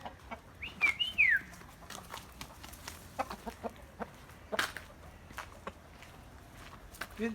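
A rooster and chickens cluck and chatter in short bursts close by, with a few squawks and scattered scratchy noises between calls.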